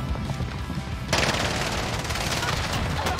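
Rapid automatic gunfire from cover fire in a shooter video game, a sustained loud burst of rattling shots that erupts about a second in and continues to the end.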